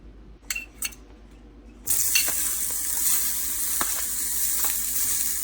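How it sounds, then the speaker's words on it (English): Chopped onion and green bell pepper hit hot olive oil in a pan and break into a loud, steady sizzle after a few light clinks, the frying hiss continuing close up with faint stirring scrapes. "Now take a pan, heat 1 teaspoon olive oil, and then I'm adding onion and green bell pepper."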